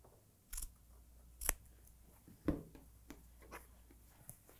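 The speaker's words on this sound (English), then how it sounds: "then cut out with scissors" A few quiet, sharp snips of scissors cutting fabric, spaced apart with pauses between them, close by in a still room.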